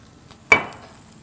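Onions hit hot olive oil in a steak pan and give one sudden sizzle that fades over about half a second, with quiet kitchen background around it.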